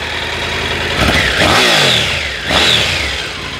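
A Triumph Tiger 900 Rally Pro's triple-cylinder engine is revved up twice from idle, each throaty rise climbing sharply then falling back, close and loud.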